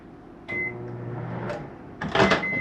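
A microwave oven in a 2022 Salem 170SS RV gives short, clear electronic beeps, one early and another at the end, with cupboard-like clunks and a door opening in between, all close up.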